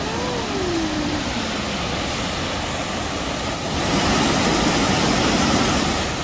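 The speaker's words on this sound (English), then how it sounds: "This waterfall is called Bridal Veil Falls." Bridal Veil Falls, a waterfall in Oregon, roars as a steady broadband rush of falling water, continuous and fairly loud throughout, swelling slightly toward the end.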